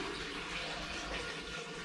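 Dirty water from a betta fish tank is poured into a toilet, a steady, faint, close rush of splashing liquid that runs without a break.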